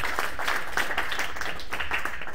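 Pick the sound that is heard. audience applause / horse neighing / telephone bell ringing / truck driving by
audience applause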